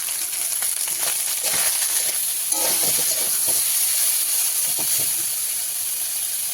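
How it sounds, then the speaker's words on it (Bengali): Soybean chunks fry in hot oil with turmeric and salt in a kadai, giving a steady close hissing sizzle with faint scattered crackles throughout. "আমি প্রথমে সয়াবিনগুলো একটু তেলে ভেজে নিই"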